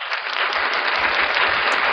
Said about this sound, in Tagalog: So dapat niyang pinapalakpakan niya.